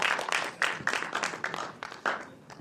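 Audience applause at a talk on rural India, a brief burst of clapping with uneven, scattered hand claps that swell and fade over a couple of seconds.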